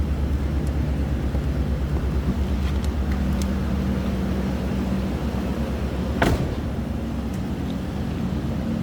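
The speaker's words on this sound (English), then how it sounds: "Sounds as you'd expect. Stock 6-liter V8 underneath the hood" A stock 6-liter V8 in a 2017 GMC Savana Explorer extended conversion van idles with a steady, close, low rumble, a brief sharper whoosh rising near the end.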